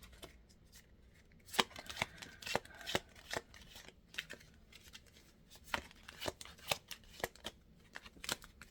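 Tarot cards are split and shuffled in close, soft riffling bursts, a run of crisp flicks and slaps recurring irregularly at low volume with no talk.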